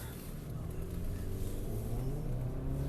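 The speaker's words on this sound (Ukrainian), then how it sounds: "Хватає знизів, гурчання двигуна." Steady low engine rumble from a Subaru Crosstrek Limited crossover on the move, a dense continuous drone with road noise filling the cabin, no voices over it.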